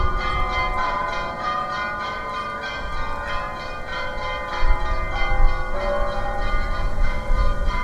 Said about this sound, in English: when its bells start chiming, it goes pretty hard